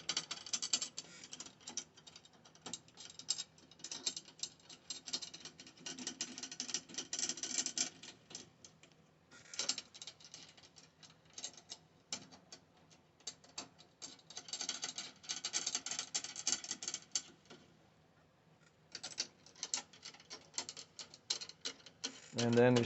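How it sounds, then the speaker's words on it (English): Tension rods on a DW 14x6.5 black nickel over brass snare drum screwed finger-tight into the lugs, a long run of fine close ticking and ratcheting thread clicks in bursts with brief pauses. "Just go finger tight until it grabs the threads."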